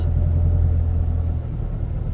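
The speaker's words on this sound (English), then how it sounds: "I'll do one more gas start." A manual transmission car pulls away from a stop in a gas start, its engine a steady, loud low rumble heard from inside the cabin that eases slightly as it gets moving.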